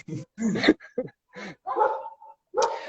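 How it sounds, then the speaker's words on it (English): Dogs bark and whimper in short bursts in the background during a video call, close enough to be clear, with a person's voice also heard in pauses between them. "I'm sorry about the dogs barking."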